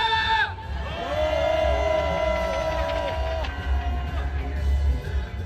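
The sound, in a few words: protest crowd shouting an angry roar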